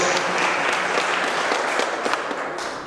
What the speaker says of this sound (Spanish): Un aplauso para esa pareja, marido y mujer, para siempre, delante de Dios.